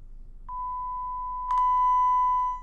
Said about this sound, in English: use an app that I have that will create a sine wave so that we get precisely the same sound everywhere